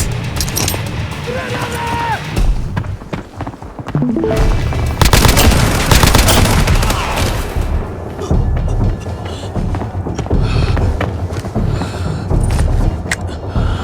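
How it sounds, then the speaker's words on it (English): A grenade explosion and dense gunfire in the video game Arena Breakout, loud continuous bursts and booms with shouting voices over the chaotic battle. "Grenade out!"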